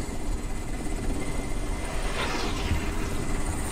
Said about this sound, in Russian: Вот какого хрена этот самолет просто пролетает и ни хрена не делает?